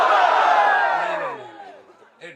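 A crowd at a religious gathering roars a slogan in unison in response to a leader's call, a loud massed shout that swells and then fades over about two seconds.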